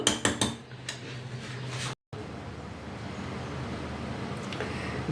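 Dishes and utensils clink and clatter close by in a kitchen while goat brain fry is plated, with a cluster of sharp clinks at the start, then quieter handling and a faint tap near the end.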